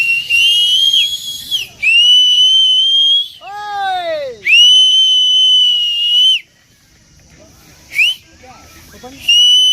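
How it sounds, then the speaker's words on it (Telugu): Loud, shrill whistle blasts, a few long sustained ones plus a warbling sliding call and brief short toots, with pauses between them. "whistle whistle"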